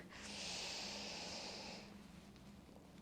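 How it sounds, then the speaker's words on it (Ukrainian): One deep, audible breath during a pregnancy exercise routine, a long airy inhale or exhale lasting nearly two seconds, close to the mic, then fading to quiet room tone. "Підзбираємо ноги, глибокий вдих. І видих."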